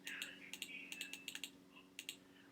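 Fingers type on a computer keyboard, a quick irregular series of light close clicks in small bursts, quiet and without talk.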